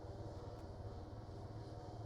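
A military helicopter in a WW3 game drones steadily with a low, pulsing rotor and engine hum, continuous and fairly quiet, without speech.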